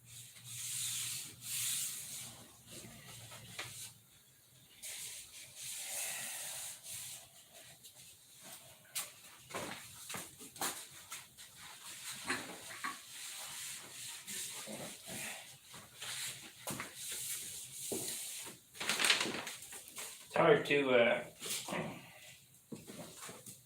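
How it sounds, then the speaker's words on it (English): Hand sanding in an apartment: intermittent scraping and rubbing strokes at close range, irregular in rhythm, with quieter pauses between bursts and a louder flurry of strokes near the end. "Hard to sand in my apartment because I can't have it on its side like this."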